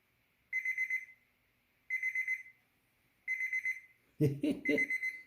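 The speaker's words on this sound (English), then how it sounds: "Just setting an alarm." An alarm clock beeps in three evenly spaced bursts, then a fourth burst sounds alongside a short clatter, fairly close and clear.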